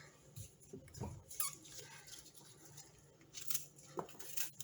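Knife cutting up chili ingredients on a board in a home kitchen, a few soft irregular chops and scrapes close by, fairly quiet, no voices.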